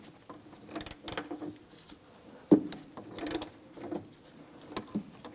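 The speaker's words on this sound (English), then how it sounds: "we're gonna use our ratchet. It's a 13 millimeter and we're just gonna go ahead and loosen and remove this one here" A 13 mm ratchet clicks in short rapid bursts while loosening the fuel tank strap bolt under a 2011-2019 Ford Explorer 3.5L, with a sharp metallic clunk midway and pauses between pulls.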